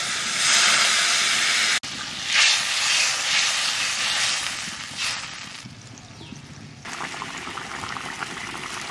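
Water splashes into a hot pan of fried potatoes and erupts in a loud, hissing sizzle of steam that briefly cuts out, then resumes and slowly settles into a quieter, bubbling hiss.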